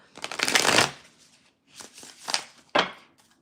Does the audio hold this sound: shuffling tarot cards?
yes